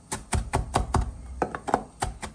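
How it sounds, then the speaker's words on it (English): Knife chopping green seasoning herbs on a cutting board for Guyanese stewed smoked fish, a run of about ten sharp, evenly spaced close taps with a brief pause midway. "Now you just want to just chop these like this, just by bringing it on top of each other and just chop them."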